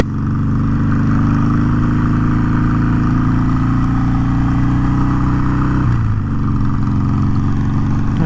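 A 2020 Harley-Davidson Sportster Iron 883 fitted with a 1250 Hammer Performance kit runs loud and close with a steady, deep V-twin throb, then its pitch shifts as the throttle changes partway through.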